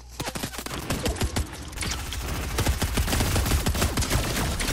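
Rapid gunfire in Fortnite, a dense stream of sharp, close shots that rattles almost without pause, building steadily louder through the clip with no talking.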